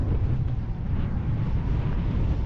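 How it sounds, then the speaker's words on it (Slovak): Strong gusty wind at a shallow lakeshore, roaring and buffeting the microphone continuously in a dense, loud rumble with no voices heard. "Ale riadne tu fúka, môžete to vidieť aj na tých vlnách."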